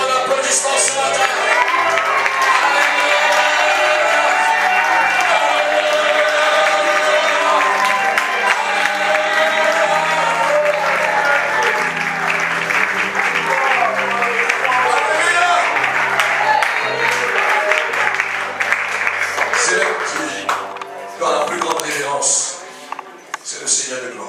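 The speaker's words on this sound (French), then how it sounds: "nous lui donnons un très très bon applaudissement ce matin" A church congregation applauds and cheers loudly for about twenty seconds, with dense sustained clapping, whoops and scattered shouts, tapering slightly near the end.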